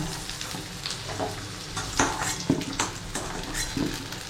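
Potatoes sizzle gently in a pan while being stirred, with a soft continuous fry broken by a few sharp scrapes and clinks of the spoon against the pan.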